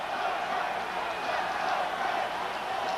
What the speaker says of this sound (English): As we hear the crowd cheering for Frank Reich to get this team going